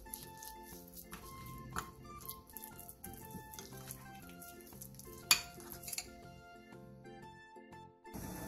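Marinated meat stir-frying in an oiled pan over high heat for a Korean side dish, with a soft continuous sizzle, scraping utensil strokes against the pan and a sharper clatter near the middle, fairly quiet.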